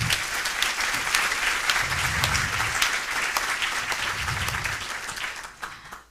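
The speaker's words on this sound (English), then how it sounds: "So a big round of applause for Christian, please." An audience at the World Inequality Conference claps in sustained applause, dense and fairly close, tapering off over about six seconds.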